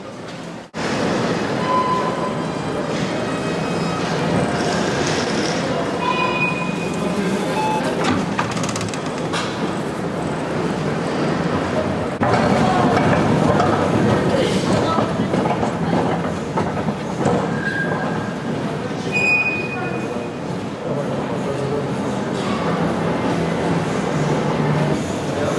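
A Brussels Metro subway train carries passengers along the line, a loud steady rumble and rattle of wheels on track with faint squeals and clicks, continuous and close throughout.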